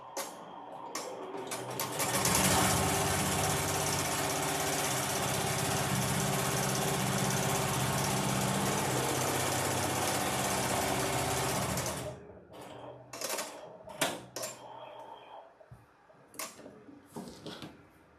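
An embroidery machine stitches an applique on an in-the-hoop zipper bag, a steady loud mechanical whir running for about ten seconds before stopping, followed by scattered handling clicks and rustles.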